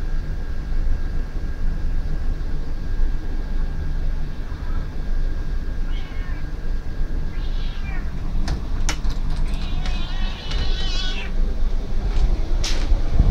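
A house cat meows several times indoors, in short separate cries over a steady background hum, the calls clustering in the second half.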